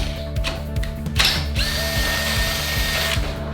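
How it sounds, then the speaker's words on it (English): A hammer drill grinds steadily with a rattling, ratcheting mechanical churn, close and loud, running continuously without pause. "pre-drill with the hammer drill"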